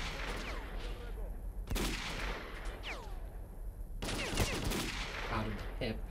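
Gunfire in the shooter S.T.A.L.K.E.R.: Call of Pripyat, with several sharp bursts of shots cracking over a steady ambient rumble, while a voice speaks briefly between them.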